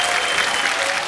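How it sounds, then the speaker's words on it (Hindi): An audience on a comedy show stage claps loudly and steadily throughout, a dense, continuous wash of applause from a large crowd with no pauses. "साइना के लिए जोरदार तालियां"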